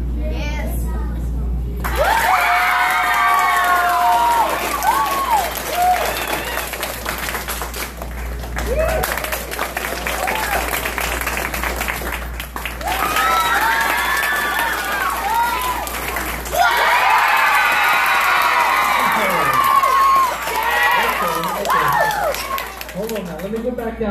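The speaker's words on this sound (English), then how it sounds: "you make the loudest applause for whoever you want to win this battle" Children in a school audience clap and cheer loudly for a beatbox battle contestant, a sustained roar of applause and excited shrieks that swells, dips and surges again, with an adult voice talking at points.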